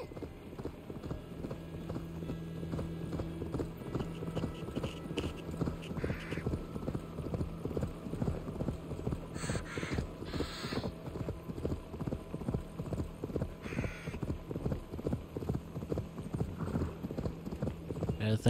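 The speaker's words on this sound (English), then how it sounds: "Okay, let's get on my horse" Horse hooves clip-clop steadily in the video game Assassin's Creed Valhalla, a continuous rhythmic trot running the whole time over a low musical hum and occasional game sounds, with a voice talking faintly underneath.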